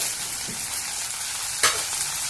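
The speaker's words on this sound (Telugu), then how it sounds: "ఉల్లిగడ్డలు వేగినాయి" Onions frying in a pan for an eggplant masala curry, with a steady soft sizzle running throughout and a brief brighter crackle or stir near the end.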